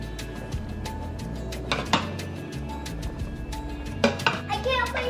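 Flour stirred into stroganoff in an Instant Pot, with scattered metallic clinks and scrapes of a utensil against the pot under ongoing talk, including a voice.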